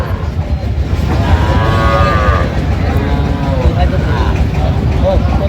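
Young bull calves low and moo at a busy cattle market in Barisal, with calls rising over steady crowd chatter and traders talking throughout.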